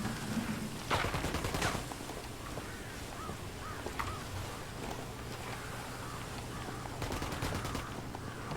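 Gunfire in the video game Ghost Recon Wildlands: bursts of rapid automatic shots at the start and near the end, with scattered single shots and game ambience between them.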